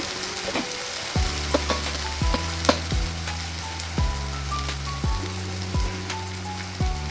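Masala sautéing in a pan for a yogurt katla (Bengali fish) curry, a steady close sizzle broken by a few louder clinks and stirs, with no voices.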